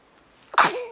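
A single sharp sneeze bursts out after a brief quiet moment, loud and close, trailing off with a breathy tail.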